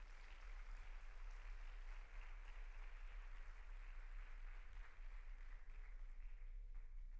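Applause fills a church auditorium, a steady dense wash of many hands clapping throughout with no speech over it.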